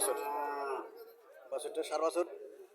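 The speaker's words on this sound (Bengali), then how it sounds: "এখানে একটা সাইওয়াল দুধের গাভি দেখা যাচ্ছে" A Sahiwal dairy cow at a cattle market lets out a loud, close moo at the start, with a second shorter lowing call following; no other sounds intrude.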